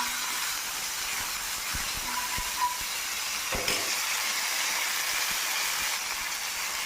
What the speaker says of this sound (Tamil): கொஞ்சமாக மல்லி கொஞ்சமாக ஃப்ரெஷ்ஷான கருவேப்பிலை எல்லாத்தையும் போட்டு வதக்கிக்கணும்